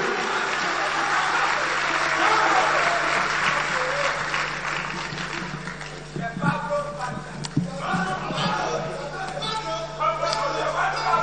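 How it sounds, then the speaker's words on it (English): Audience applause at a National Democratic Congress event launching the TEIN app, steady broadband clapping that thins and becomes more scattered toward the end, with a low hum and some voices underneath. "With a round of applause, please help me welcome the National Youth Organizer of the NDC,"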